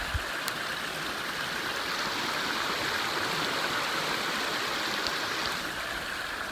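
A creek rushes in a steady, broadband wash during a crossing in heavy rain in the Urewera bush, close and constant throughout with no talking.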